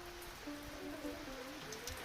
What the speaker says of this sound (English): the rain just started coming down again